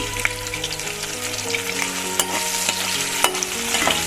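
Curry leaves and cashews frying in hot oil for kadai paneer, a loud, continuous sizzle with crackling pops and stirring clatter, no talking.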